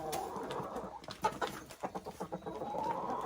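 A rooster and several hens cluck and coo together, a run of short, close clucks in a quick uneven rhythm over soft background murmuring, with no one talking.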